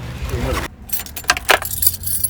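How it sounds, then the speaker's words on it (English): Keys jangle close by in a 1982 Datsun 280ZX, then after a brief hush the car starts with a few sharp bursts that settle into a low, steady engine rumble. "So we'll start the car."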